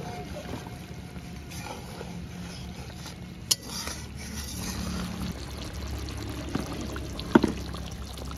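Raw mustard oil is drizzled over a simmering hilsa curry in mustard paste, a faint soft pouring trickle in a quiet kitchen, with a few small clicks.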